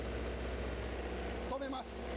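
Engine generator running at full output, a steady loud low drone holding throughout; a voice talks over it in the second half.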